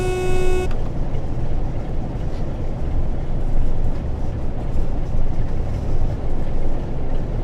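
A Class 47 diesel locomotive at full throttle in Train Sim World 5, opening with a brief horn blast and then a steady, loud, low engine roar and rumble.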